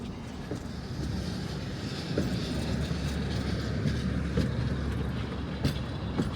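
A tram rolls along a renovated city street in Kyiv, a steady rumbling drone with faint rail clatter and occasional squeaks, sustained and fairly near with no talk.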